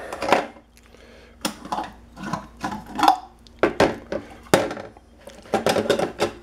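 Plastic parts of a moldy hummingbird feeder being pulled apart and handled, a series of sharp clicks, clacks and rubbing scrapes in irregular bursts, close up and with no talking.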